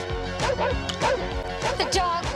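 A dog barks repeatedly in a comedy film scene set on a family road trip to the Grand Canyon, several sharp yips and woofs in quick bursts over background music and movement sounds.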